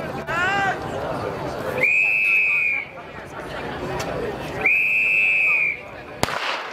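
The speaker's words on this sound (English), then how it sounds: "It's two whistles and the gun." Two long, loud whistle blasts sound about three seconds apart over outdoor crowd chatter at the start of a Bay Sheffield footrace, followed by a sharp bang of a starting gun.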